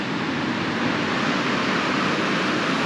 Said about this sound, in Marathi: लाटा एवढ्याशा जोरात येत आहेत